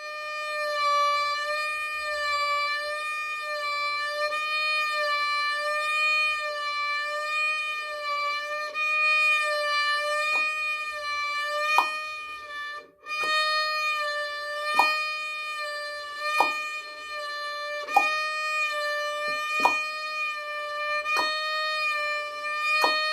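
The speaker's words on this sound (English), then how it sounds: "And I want you to do one vibrato oscillation per beat." A sustained bowed violin tone with slow, even vibrato, the pitch wavering gently once per beat, with faint bow changes at regular intervals.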